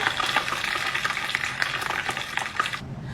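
Hot oil bubbling and crackling in a pan while bamboo weevils deep-fry, a steady close sizzle with small pops and light scraping, ending abruptly after about three seconds.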